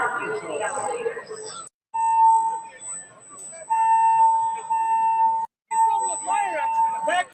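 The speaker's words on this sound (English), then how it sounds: "Fire alarm!" A fire alarm sounds at a live wrestling watch-along show as a loud, steady electronic tone that keeps cutting out and restarting, while people talk and shout over it.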